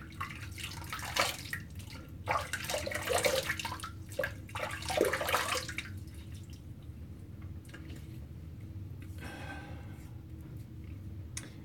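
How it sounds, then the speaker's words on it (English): Water runs and splashes from a tap while someone rinses off after shaving, a busy close wash for about six seconds that then drops to a quieter trickle and drips. "I'm going to quick rinse off here."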